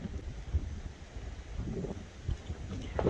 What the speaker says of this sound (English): Whew, that wind.